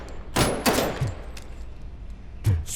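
Gunfire in RoboCop: Rogue City, several sharp shots in quick succession, then a pause and another distinct shot, fairly close and loud.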